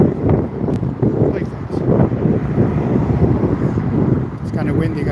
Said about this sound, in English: It's kind of windy, guys.